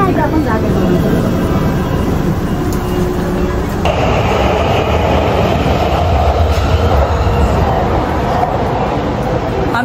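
A train at a station in Japan gives a loud, steady rumble with clattering wheels and a faint screech, heard close and continuous, while people talk quietly under the noise.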